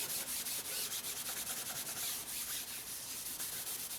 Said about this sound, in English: take a clean soft cloth and just buff it out